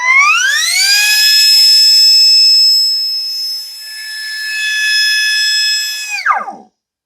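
A BESDIA pneumatic pencil grinder runs at full speed, a loud, steady high-pitched whine rising quickly as it spools up to 60,000 RPM, holding for several seconds with a slight dip, then dropping sharply as it winds down.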